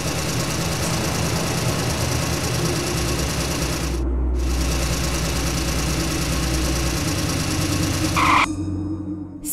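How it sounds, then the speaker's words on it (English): A cement mixer truck in an animated cartoon idles with a steady mechanical chugging rumble. It cuts out briefly near the middle, then resumes and ends with a short bright tone. "Scary cement mixer."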